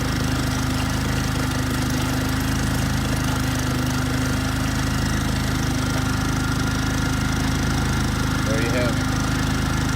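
RV generator in a Rialta running steadily with a small exhaust muffler fitted, a continuous droning engine hum with even, unbroken loudness throughout and no talk.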